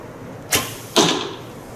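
An arrow shot from a traditional bow: a sharp release snap followed about half a second later by a louder solid whack into the target, close and crisp, no speech.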